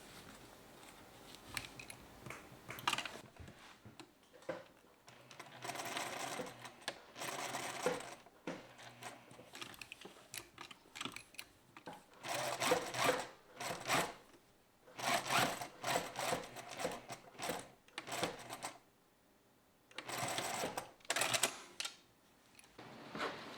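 A sewing machine stitching the collar of a bow tie runs in several bursts of rapid mechanical stitching, separated by short pauses and quiet handling sounds.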